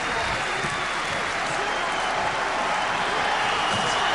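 Arena crowd at a world heavyweight title boxing match between Klitschko and Chambers, a dense, steady roar of cheering and applause sustained throughout, loud and continuous with no distinct voices standing out.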